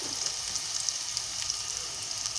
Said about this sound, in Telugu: ఇప్పుడు నేను కరివేపాకు వేస్తున్నాను.